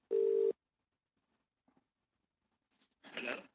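Telephone tone on a live radio call-in show, a short steady beep at the start, then near silence with faint clicks before a brief burst of line noise.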